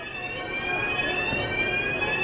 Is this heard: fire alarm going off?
yes